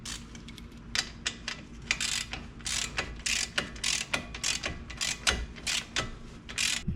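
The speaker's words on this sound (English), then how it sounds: "Now we'll run it down with our ratchet." A hand ratchet runs a track bar bolt down into a held flag nut on a Jeep XJ, giving close, crisp bursts of clicking in quick repeated strokes with short pauses between, no talk.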